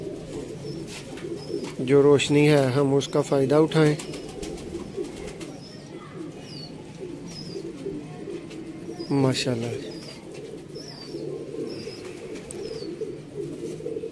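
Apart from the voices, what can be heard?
pigeons cooing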